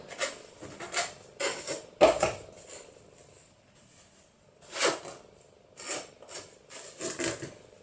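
A metal spoon clinks and scrapes against a bowl while stirring powdered icing sugar for a cake, in short irregular bursts of light tapping with quiet pauses between.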